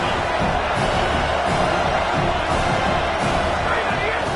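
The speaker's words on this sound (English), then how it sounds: "how nice is it to have the home crowd going absolutely bananas" At a football game, the home crowd roars loudly and steadily, a dense wash of cheering and stadium noise that holds throughout at close, full volume.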